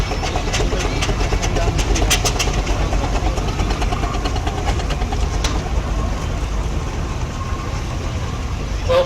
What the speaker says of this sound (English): a truly immense and wondrous selection of steam engines coming into the arena this afternoon